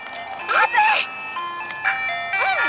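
Ice cream truck tune playing from a neighbourhood street in sliding, warbling electronic notes, loud and close, with people talking over it.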